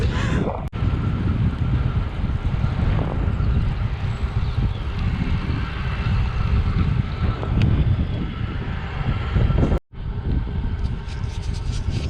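Heavy headwind buffeting a microphone while cycling, a constant loud roaring rumble with gusty fluctuations that cuts out briefly near the end, no speech.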